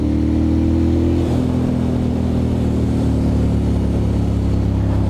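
A Ducati Monster motorcycle engine while riding through twisty roads, a loud, steady rumbling drone close up, with a brief pitch change near the start as a gear shifts, then a constant hum without talk.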